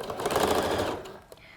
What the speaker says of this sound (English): then I'm sewing about halfway up and doing a nice little back stitch so it's really strong